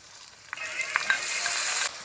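Spice paste for Bengali katla fish kalia, with turmeric, salt and yogurt, fries in a pan, a soft sizzle rising over two seconds with a few sharp clicks of stirring, close and quiet.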